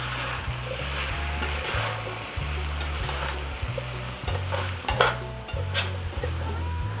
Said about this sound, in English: And one final stir.